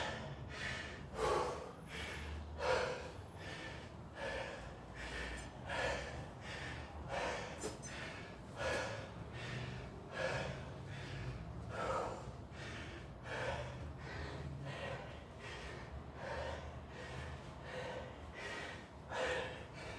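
Heavy, rhythmic breathing after a hard circuit training workout, with repeated deep gasping inhales and exhales at a steady pace, close to the microphone and mostly alone.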